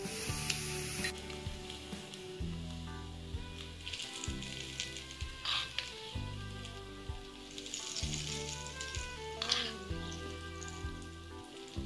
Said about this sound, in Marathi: तेल गरम झालंय, आता टाकूया जिरे।